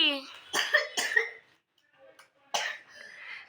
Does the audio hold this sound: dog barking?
no